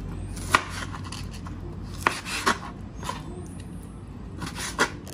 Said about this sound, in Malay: Ayam ni kita potong halus isi dia.